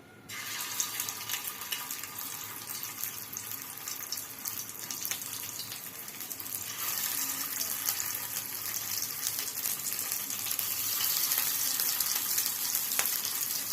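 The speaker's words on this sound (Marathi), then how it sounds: "आता ते तवा तापला आहे तेल पण गरम झालेलं आहे चला तर मग एक एक सोडून घेऊ आपण" Pea cutlets frying in hot oil on a tawa, a continuous close sizzle and crackle that swells slightly as more are added, with scattered small pops.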